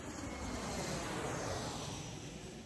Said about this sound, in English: The planes go right over you.